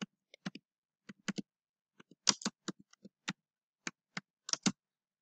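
Sparse, crisp keystrokes tapped on a laptop keyboard, coming in irregular small clusters of clicks with quiet gaps between, close and fairly soft.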